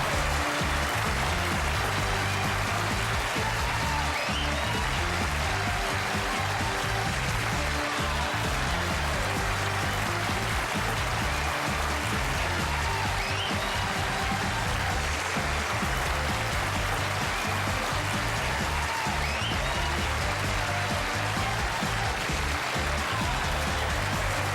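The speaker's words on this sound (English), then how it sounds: "I'm humbled by that applause." Sustained applause from a late-night talk show studio audience at the end of the show, a dense, steady wash of clapping at even loudness throughout with no talk.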